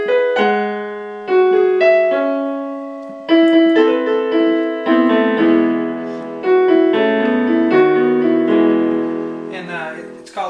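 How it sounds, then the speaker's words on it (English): Solo piano plays the intro of a song from Enchanted, slow sustained chords and a melody line in separate phrases, each ringing out and decaying. The piano is close and clear, with no talking. "So let's get started on the intro here on the piano."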